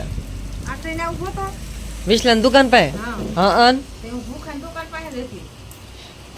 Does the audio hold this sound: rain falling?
yes